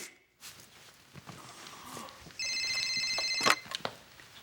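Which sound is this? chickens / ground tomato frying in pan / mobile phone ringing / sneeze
mobile phone ringing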